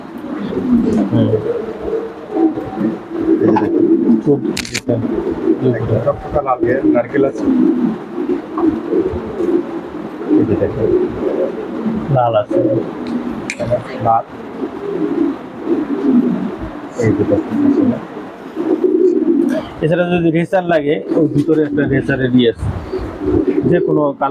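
Pigeons coo repeatedly at a pigeon shop in Uttarkhan, Uttara, Dhaka, with layered soft throaty calls close by, some wing flutters and scattered chirps, and occasional human voices mixed in.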